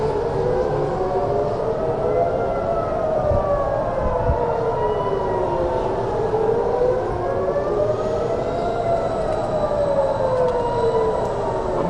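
Air raid sirens wail across Israel during an Iranian missile attack, several rising and falling tones overlapping continuously at steady loudness, heard from a distance over low background rumble.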